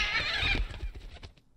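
Horse neighing in the Halloween chapter intro of a video game: a loud, shrill whinny rings out for about half a second, then trails off into snorting and a few soft hoof clops, with no talk.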